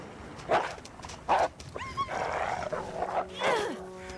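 A dog barking in The Long Dark survival game, with two loud separate barks, then whining, growling and yelping calls at close range.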